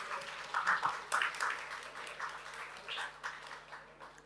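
Audience applause welcoming a speaker onto the stage at a machine learning talk, a moderate burst of clapping from a seated crowd that carries on steadily and fades slightly, with some voices mixed in.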